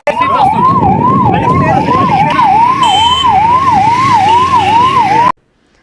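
A loud, close ambulance siren wails in a fast rising-and-falling cycle over traffic noise, then cuts off abruptly near the end.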